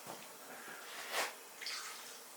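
Used liquid from cleaning paintbrushes, heavy with alcohol, poured into a waste container indoors: a faint, brief trickling splash that swells for a moment and fades, close but quiet.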